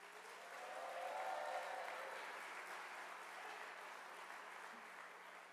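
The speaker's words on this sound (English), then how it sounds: "Let's give those gentlemen a round of applause." Audience applause at a senior awards ceremony, quiet and somewhat distant, rising into a steady wash of clapping and holding evenly with a faint whistle early on.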